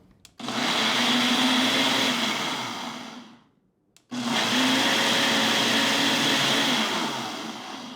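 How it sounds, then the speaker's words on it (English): A countertop blender whirs loudly through a green smoothie of kale with a drizzle of honey, running in two long bursts of about four seconds each, separated by a short pause. "you want to remember when you're blending greens, you want to keep giving pauses, because kale especially can be really tough to break down"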